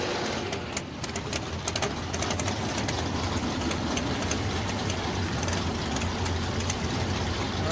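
A 1997 Chevrolet S10 drag racing car idles at the track, its engine a continuous rough, buzzing rumble heard from a distance under broad background noise, with no talking.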